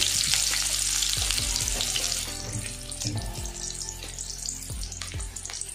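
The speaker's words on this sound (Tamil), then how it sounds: "இப்போ ஜீரகம் பொரிஞ்சதுக்கப்புறமா ஒரு ரெண்டு சின்ன வெங்காயம் கட் பண்ணது சேர்த்துக்கலாம்" Cumin seeds and chopped shallots frying in hot oil, a dense crackling sizzle with several sharp clinks and scrapes of a utensil against the pan, close and fairly loud, easing slightly midway.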